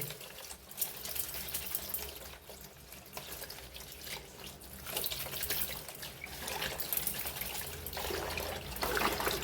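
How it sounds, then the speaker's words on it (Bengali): Cloth is rinsed by hand in water, producing continuous splashing, trickling and dripping close by, with soft sloshes of wet fabric throughout. "কাপড়টা কিন্তু আমি জাস্ট জলে একটু ভালো করে ধুয়ে নিচ্ছি"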